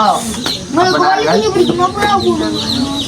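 Young chicks chirp and cheep close by in a backyard coop, with clucking from fowl mixed in, in a busy run of calls while a person talks over them.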